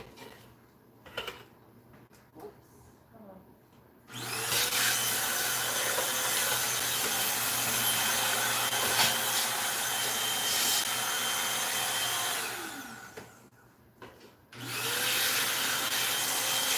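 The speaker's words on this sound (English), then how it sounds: "I'm gonna vacuum as I did before." A vacuum cleaner roars steadily close by while cleaning out a wooden cabinet, cutting off briefly and then starting up again, with faint knocks and handling noises before it starts.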